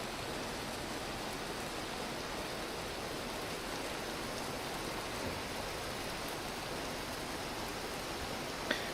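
Constant dense rush of hailstorm rain from Vintage Story, an even, loud wash of pattering precipitation that holds steady throughout, with a tiny click at the very end and no voices.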